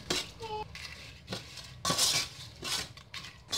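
A spoon stirs rice with squid ink in a pot, several separate scraping and clinking strokes against the metal, close and fairly soft, with brief pauses between them.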